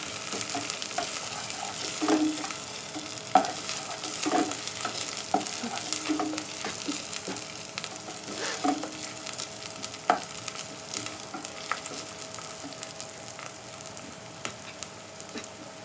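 A masala of garlic and dry spices for handi kabab sizzles steadily in a pan, while a spoon scrapes and stirs through it in irregular strokes, close and without talking.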